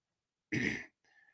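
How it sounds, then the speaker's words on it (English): A single short, rough throat clearing sounds close to the microphone, followed by a faint breathy exhale in an otherwise quiet room. "I got to clear my throat"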